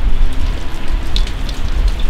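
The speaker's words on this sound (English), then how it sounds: "It's raining, the river's high" Steady rain patters and hisses on surfaces close by, with scattered drips standing out, beside a high river; no voices.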